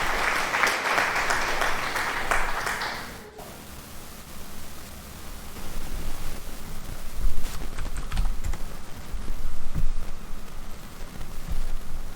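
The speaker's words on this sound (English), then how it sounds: "thank you for the applause" A burst of applause for about three seconds that stops abruptly, leaving faint low room noise and a few soft knocks.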